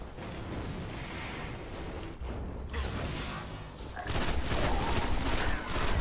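Rapid bursts of machine gun fire in the video game Destiny, loud and dense, with a heavier, brighter stretch of shooting near the end.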